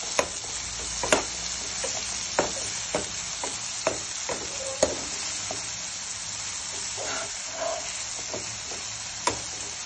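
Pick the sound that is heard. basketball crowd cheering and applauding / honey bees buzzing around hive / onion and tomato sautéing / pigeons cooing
onion and tomato sautéing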